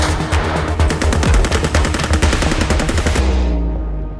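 SAW machine gun firing a long continuous automatic burst at military competition, loud and close, rapid evenly spaced shots for about three seconds before the echo fades out.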